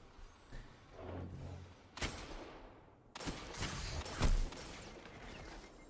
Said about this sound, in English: Right here, we're going to take a sniper duel.